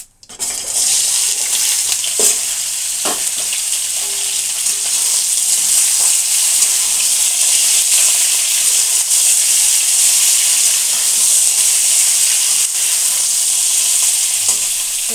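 Drumsticks (moringa pods) and mixed vegetables hit a pan after cumin has browned, giving a loud, constant hissing sizzle with occasional stirring clicks, close up and without speech.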